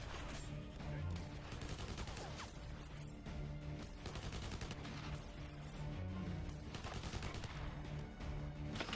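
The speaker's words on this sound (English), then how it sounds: "They were already shooting at me before I opened that window." Enemy gunfire from the Xbox 360 shooter Blackwater, a continuous loud barrage of overlapping shots and bursts under a busy game soundscape, sustained throughout with recurring sharp volleys.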